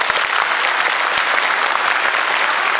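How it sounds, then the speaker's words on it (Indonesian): An audience at an Islamic lecture in Miaoli City, Taiwan, breaks into steady, dense applause, loud and sustained throughout with no break. "Tepuk tangan saudara"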